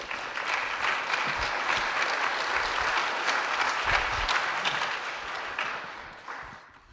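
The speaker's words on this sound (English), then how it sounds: "if we could give Brian a warm round of applause." Warm round of applause from a live audience at a 1 Million Cups startup pitch event in Kansas City, dense steady clapping filling the room for about six seconds before tapering off at the end.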